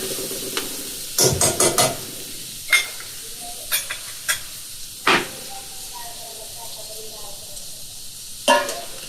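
Tomato and onion roasting in a pan over a wood-fired chulha, with a soft background sizzle broken by sharp stirring clatters and scrapes at intervals. There is no speech.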